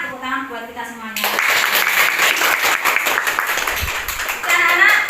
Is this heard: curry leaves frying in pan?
no